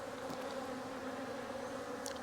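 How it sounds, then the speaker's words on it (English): Honey bees buzzing around hive frames while a beekeeper makes splits, a steady, close droning hum that holds evenly throughout, with no talk. "good bit of bees still down here, so I might try to shake another frame out of them"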